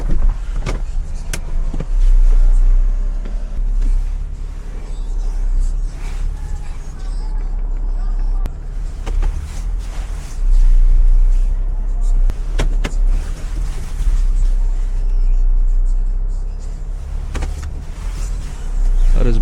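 Steady low road rumble and tire drone inside an Acura TL cruising through suburban streets in the morning, with occasional clicks and thumps and a voice talking at times over the continuous cabin noise.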